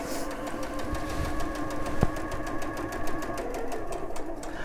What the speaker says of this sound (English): depending on which sewing machine I happen to be sewing on